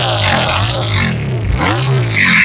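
Regal Raptor Daytona EFI V4 motorcycle engine revving loudly up and down close by, with rising and falling pitch sweeps and a brief dip mid-rev before climbing again.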